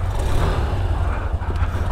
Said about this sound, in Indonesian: Suara mesinnya masih mirip sama Beat yang lama ya.